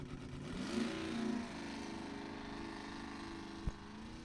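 A Camaro drag race car's engine drones at a distance, rising briefly in pitch before settling into a faint, steady hum with a sharp click near the end.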